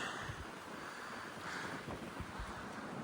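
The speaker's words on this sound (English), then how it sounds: "That is a stiff north cold wind smacking me right now." A stiff, cold north wind buffets the microphone on an Ozark Trail hike near Blair Creek, producing loud continuous rumbling gusts with low thumps, alone without speech.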